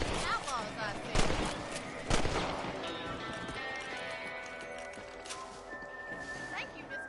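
Horse hooves clip-clopping in the Western video game Red Dead Redemption, a few sharp hoof strikes early then a quieter rhythmic patter, with a horse whinny and game music in the background.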